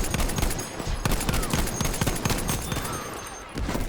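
Battlefield V combat with a Selbstlader 1916 rifle, a sustained barrage of loud overlapping gunshots and explosions, briefly easing before a final burst.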